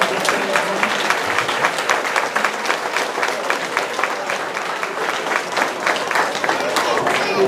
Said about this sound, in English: let's give them a big round of applause as they leave